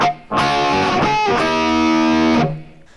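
A heavily distorted electric guitar plays the intro riff of a song, with chunky sustained chords and short ghost-note scrapes, loud and close with no talk.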